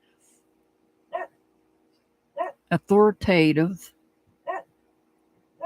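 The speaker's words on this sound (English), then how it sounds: "the dogs are going to start barking" Several dogs bark in short bursts spread across the scene, some moderately loud, with a person talking over the middle stretch.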